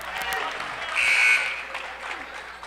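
A basketball crowd at a Westfield vs. Summit boys high school game roars briefly after a defensive play, a short swell of cheering rising midway over gym noise and a commentator's voice.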